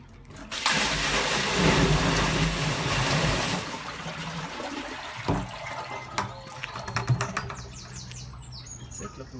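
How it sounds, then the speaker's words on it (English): Roughly 15 to 20 gallons of water poured down a drain that had been blocked by roots, a loud rushing gush that fades into gurgling and trickling, with scattered knocks and splashes toward the end. "I'll pour another, what would it be, about 20 gallons of water, 15 gallons of water down, just to flush it through."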